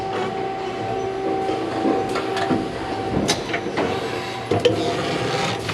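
Takamaz XC-100 connected line machines transfer and load parts between stations, with a steady mechanical hum, a faint tonal whine and scattered clanks and clicks from moving transfer parts.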